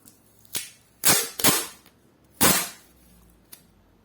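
Several short, sharp ripping bursts of adhesive tape being pulled off a roll, separated by brief pauses, loud and close.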